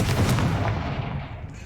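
Confringo fire spell from Hogwarts Legacy bursting as a loud, broad blast that rumbles and fades within about a second and a half.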